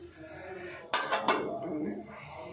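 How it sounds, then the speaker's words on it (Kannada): A pressure cooker lid is closed on a stovetop pot of lentils, giving a few sharp metallic clanks in quick succession followed by a short scraping rattle, close and clear over quiet background. "ಕುಕ್ಕರ್ ಮುಚ್ಚಲ ಕ್ಲೋಸ್ ಮಾಡ್ತಾಯಿದ್ದೀನಿ"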